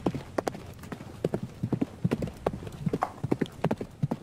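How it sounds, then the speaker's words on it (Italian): Horse hooves clip-clop in a steady trotting rhythm in the Frontiers video game, close and fairly loud, with a few faint voice sounds underneath. "Vediamo se questo cavallo è un cavallo da rally o no."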